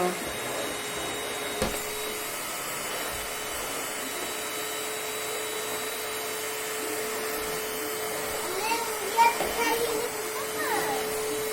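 A vacuum cleaner runs as a steady, even drone throughout while a child sweeps up toys at home, with a voice speaking encouragement over the motor.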